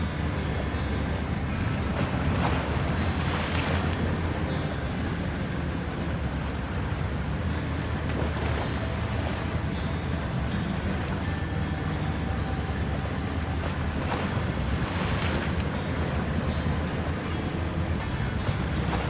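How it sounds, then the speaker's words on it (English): A boat moves across a river in the rain, giving a steady wash of water and motor rumble with wind buffeting the microphone throughout, and no voices. "We're trying to move a boat across the river."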